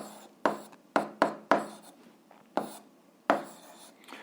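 A pen writes an algebra equation on paper in short, distinct strokes, seven sharp scratches spaced irregularly over a few seconds, close and clear with faint room noise between them.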